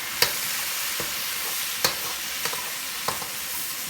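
A cornstarch and water slurry stirred into a bubbling eggplant garlic sauce in a hot pan, a broad hissing sizzle with a few sharp taps of a utensil, close and steady, with no speech.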